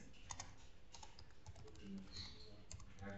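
Steady, quick keystrokes on a computer keyboard while entering text in an Excel spreadsheet, close and fairly quiet, with continuous light tapping and no talk.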